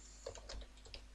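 Typing on a computer keyboard, a short burst of a few quiet, close keystrokes with soft clicks over a low background hum, no voices.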